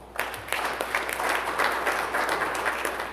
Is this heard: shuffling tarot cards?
no